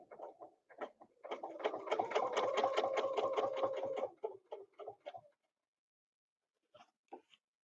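A sewing machine stitches a quilt border along a template in a quiet room, opening with a few short stitching bursts, then a steady run of about three seconds, then more short bursts and faint taps.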